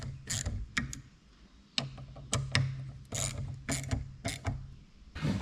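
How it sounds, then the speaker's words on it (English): A 1/4 inch ratchet tightens a fastener on a rebuilt side-by-side starter, giving several quick close bursts of rapid clicking separated by short pauses. "So drawing it up easy with a 1/4 inch ratchet"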